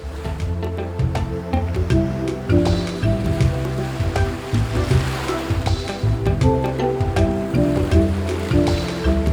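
Surf washing onto a bright, sunlit white sandy island beach in the Amazon region, a loud continuous roar of breaking waves with steady rolling rhythm, close and without talk.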